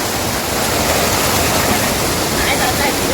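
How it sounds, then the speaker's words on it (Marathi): A rocky stream on the Bhairavgad night trek in Ratnagiri carries water rushing down from above, filling the whole stretch with a loud, constant broadband wash. "हा इथे मस्त आहे की ओढा आहे."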